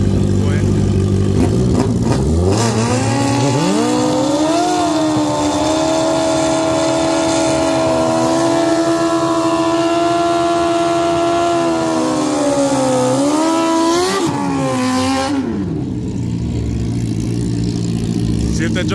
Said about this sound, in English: Warm your bike up.